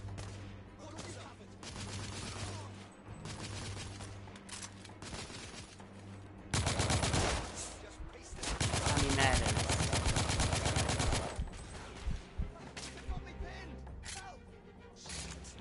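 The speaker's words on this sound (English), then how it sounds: "Oh, I forgot about blind fire." Blind-fire gunfire in The Order: 1886, rapid bursts of shots rattling in clusters and building to a dense sustained volley midway, with game sound underneath and some talking.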